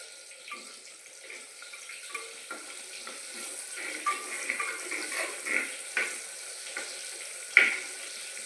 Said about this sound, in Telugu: ఇప్పుడు నూనె వేడి కాగింది. తర్వాత ఉల్లిగడ్డలు వేస్తున్నాము.